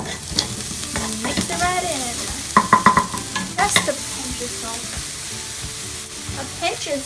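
Onions and spaghetti squash are stirred with sugar in a frying pan, a soft sizzle running beneath scraping utensil strokes and clinks in irregular bursts, close and fairly loud.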